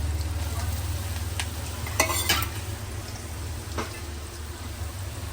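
Ginger, garlic and green chillies with curry leaves sauté in hot oil in a pan over low gas for a potato-sev curry, giving a steady close sizzle broken by a few sharp scrapes and clinks of a stirring spoon.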